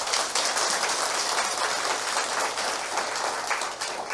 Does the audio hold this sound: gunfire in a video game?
no